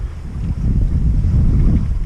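Steady wind rushing over a sailboat crossing the Ionian Sea in about 12 knots of beam wind, a loud continuous low roar with buffeting against the microphone and no voices.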